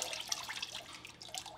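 Aurora green ceramic glaze pours over a pot with a soft, continuous liquid splashing and trickling, faint and close.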